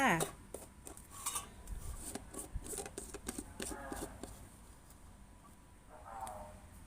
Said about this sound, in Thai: ปิดฝาเลยจ้า